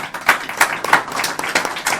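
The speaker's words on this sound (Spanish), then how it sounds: "El aplauso para Lope," Audience applause at a lecture on Toledo and Spanish history, a short burst of clapping with distinct, fairly sharp hand claps that continue evenly throughout.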